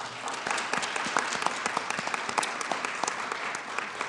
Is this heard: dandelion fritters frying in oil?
no